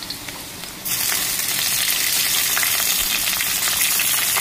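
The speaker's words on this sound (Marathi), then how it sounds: "इथे कांदा आपला फ्राय झालेला आहे" Onion frying in a pan for a paneer hariyali dish, a dense close sizzle that jumps louder partway through and then holds steady to the end.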